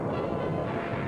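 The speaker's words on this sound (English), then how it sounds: "On come our heavily manned landing craft as naval gunfire mounts to an unbelievable crescendo of thunder," Heavy naval gunfire from the 1943 Tarawa landing in World War II, a thick, continuous rumble of distant bombardment rolling together into one dull roar, with no single shots standing apart.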